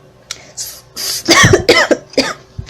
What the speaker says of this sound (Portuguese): eu acabei tossindo aqui porque eu tô com uma pneumonia